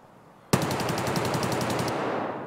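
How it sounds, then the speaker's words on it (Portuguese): Automatic gunfire in the shooter game Escape from Tarkov: a sudden close, loud burst of rapid rounds lasting about a second and a half, then fading echo. "Em cima de mim aqui esse tiro."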